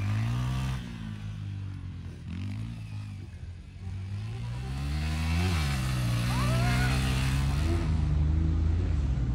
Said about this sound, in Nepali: It's riding new WR Yamaha 155cc.